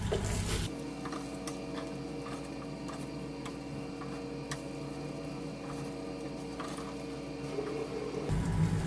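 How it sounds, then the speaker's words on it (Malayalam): Fried fish being stirred into a spice mixture for fish pickle, heard as faint, steady scraping clicks that repeat at fairly regular intervals over low background noise, with no talking. "ഇനി ഇതെല്ലാം കൂടി നന്നായിട്ടൊന്ന് മിക്സ് ചെയ്യാം"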